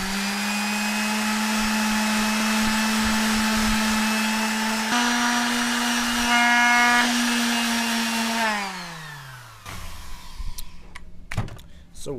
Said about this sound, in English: get our sander ready with some nice, I think it's 120 grit